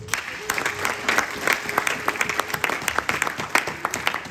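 A church congregation applauding with steady clapping, fairly close and sustained throughout, with some voices mixed in.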